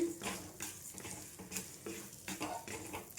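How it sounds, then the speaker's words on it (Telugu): Flax seeds roasting in oil in a pan, giving a close, steady crackle and patter with repeated scraping and stirring strokes against the pan, no voices. "ఈ అవిసి గింజల్ని మంచిగా వేయించుకోవాలి ఇవి ఆడేంత వరకు వేయించుకోవాలండి"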